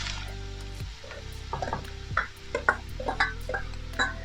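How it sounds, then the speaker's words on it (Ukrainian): Prepared vegetables for a zucchini cream soup hit a preheated frying pan, giving a close, steady sizzle with scattered clinks and stirring knocks of a utensil against the pan. "заготовлені овочі зараз викладаємо на розігріту сковорідку"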